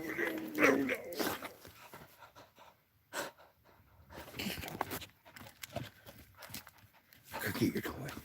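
A dog pants and gives a few soft, scattered barks at a quiet level indoors, with a person talking intermittently over the sounds.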